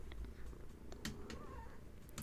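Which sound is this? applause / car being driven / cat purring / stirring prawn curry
cat purring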